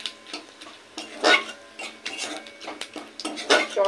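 Whole cardamom, a small cinnamon stick and cumin seeds fry for tempering as a spoon stirs and scrapes the pan in short, uneven bursts, with light clinks over a faint sizzle.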